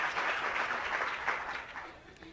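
Audience applause at a convention, a brief, fairly quiet wash of clapping that holds steady and tapers slightly at the end.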